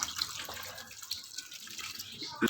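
Water poured from a tap over fried bhalle in a kitchen, a steady splashing hiss of running water with a few small drips and clinks, faint and continuous, with no talking.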